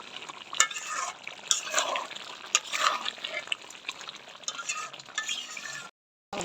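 Goat meat sautéing in a pan, with an uneven sizzle and repeated scraping and stirring strokes of a utensil. The sound breaks off into near silence just before the end.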